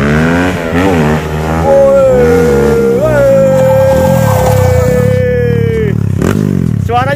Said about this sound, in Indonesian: Suaranya sangar ya, guys. Sangar banget